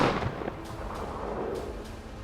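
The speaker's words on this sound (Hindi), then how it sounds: "फिर एक घर से गोली चली" Gunfire comes from a house during an armed operation in Nawa Kadal: several sharp shots ring out in an irregular series, loud and reverberant with a rumbling tail, and no one speaks.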